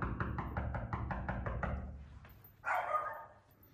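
A dog barks inside a house in London, about nine quick, evenly spaced barks that sound muffled through walls, then falls quiet before a short, brighter sound near the end.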